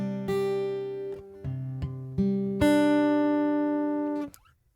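Guitar strummed through a short chord progression, five or six distinct chords rung out in succession with a slight rise in loudness, the final chord, a C, sustaining before being cut off; no talking.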